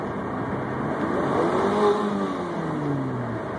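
A car engine revs in neutral with intake noise, its pitch sweeping up and easing back down in smooth, moderately loud waves heard from inside.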